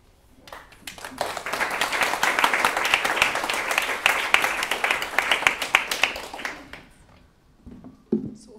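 Audience applause fills a talk event at Somerset House Studios: dense, steady clapping swells up, holds for several seconds, then thins into a few scattered claps and a brief murmur near the end.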